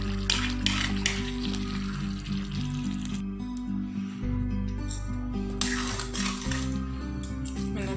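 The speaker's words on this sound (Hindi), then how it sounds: "वेजिटेबल्स इसमें डाल देंगे, सारी मैंने डाल दी, अब इसे अच्छे से हिलाएंगे।" Vegetables sizzle in a pan for pav bhaji while a spoon stirs and scrapes against the metal, with bursts of clatter over a steady frying hiss.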